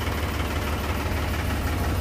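A tractor engine idles while backing up a trailer, giving a steady low, throbbing rumble with a slight knocking vibration, close and constant throughout.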